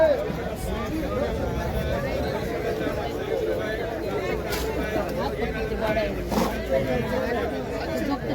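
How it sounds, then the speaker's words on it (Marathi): Crowd hubbub fills the busy Malvan seaside fish market in Konkan, where tourists, fish sellers and buyers mingle. The overlapping chatter stays steady and close throughout, with individual voices rising now and then. "गर्दी भरपूर आहे बाजारात"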